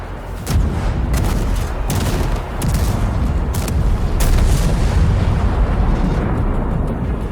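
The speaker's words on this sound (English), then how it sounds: "Shots will ring out like you've never heard them before" Loud, dense battle sounds from the World of Tanks video game, with gunshots and explosions booming in quick succession over a continuous rumble, close and heavy throughout.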